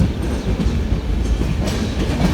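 A long-distance train arriving at Jammu station rumbles steadily along at close range, with continuous low rolling noise and faint clattering of wheels on the rails.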